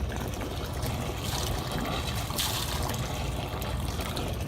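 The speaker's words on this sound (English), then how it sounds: "Always want to make sure water's coming out of the stern" Steady splashing cooling water gushing continuously from a boat's stern exhaust, loud and close, with a constant rushing flow and no pauses.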